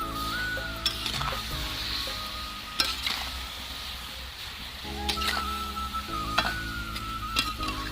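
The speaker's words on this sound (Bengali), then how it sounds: "এইভাবে হালকা করে নাড়িয়ে রাখতে হবে" Raw mango pieces frying in a kadai as they are gently stirred, with a steady sizzle, a faint hum and intermittent scrapes and taps of the spoon against the pan.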